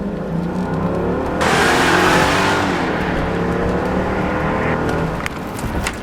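A Mercedes-Benz S500 W221 with a 302-horsepower engine accelerates hard, a loud, steady drone that swells into a stronger surge, holds, then eases back, heard close with no talk.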